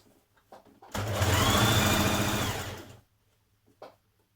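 A home sewing machine runs for about two seconds, stitching down the waistband of a stretch-fabric skirt, its rapid motor whir rising loud and steady before stopping, with light handling clicks of the fabric before and after.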